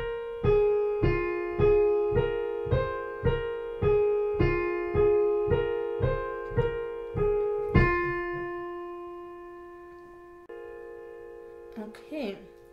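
Solo piano plays the melody of a piece as a steady run of about a dozen single notes that decay quickly. The last notes are left to ring and fade out softly.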